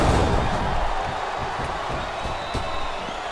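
A wrestling crowd in the video game WWE SmackDown vs Raw 2007 roars as a steady, dense wash of cheering, with occasional thuds from the ring and faint voices underneath.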